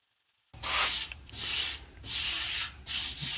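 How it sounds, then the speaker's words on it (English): Close, rhythmic sanding of a Bronco's car body with a soft block: four long back-and-forth rasping strokes after a short silence. "You can tell how very little sanding I'm doing."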